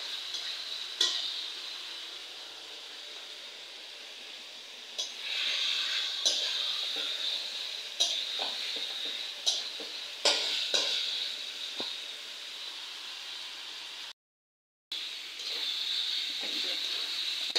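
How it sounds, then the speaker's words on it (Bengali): Fried potato and pointed gourd stirred in a hot pan for a Bengali fish curry, with a steady sizzle and repeated spatula scrapes and knocks, close and moderately loud, with one short silent gap. "এখন আমি জাস্ট 1 মিনিট মতো নেড়ে চেড়ে পরিমাণ মতো পানি দিয়ে দেবো।"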